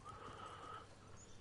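A horse in The Last of Us video game gives a faint, drawn-out whinny over a quiet background hum, with no talking.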